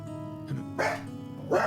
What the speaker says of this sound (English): That was the dog again.